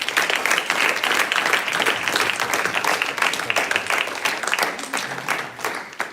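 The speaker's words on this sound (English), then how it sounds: "Let's give another big round of applause to all the graduates." A crowd applauds graduating students at a Sri Sathya Sai Center event, with dense, continuous clapping that holds steady and loud for several seconds before easing slightly at the end.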